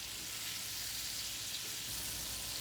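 Cubed steak lightly browns in a frying pan, giving a soft, even sizzle that hisses steadily and quietly throughout with no voices.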